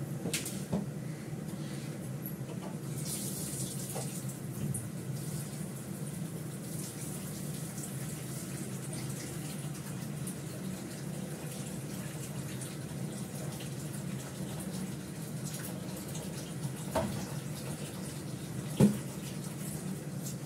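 Tap water runs steadily into a kitchen sink while rice is rinsed, a continuous splashing wash with a few faint clinks and one sharp knock near the end.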